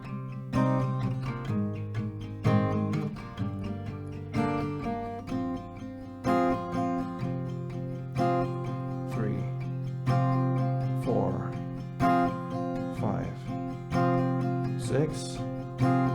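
An acoustic guitar strums the bridge of a song in a repeating chord pattern, steady and close, with pauses and sliding notes between phrases.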